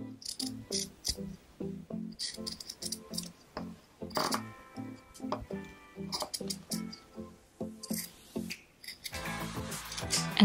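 Scissors snip through a men's shirt fabric, cutting stripes in a close, quiet series of crisp, uneven clips with short pauses between cuts.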